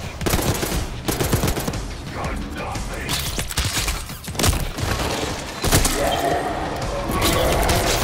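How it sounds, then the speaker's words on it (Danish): Gunfire in the Call of Duty: Black Ops 6 campaign, zombie mode: dense bursts of shots and clattering mechanical weapon sounds run continuously over loud game noise, with no speech. "der kom et skud lige imod mig."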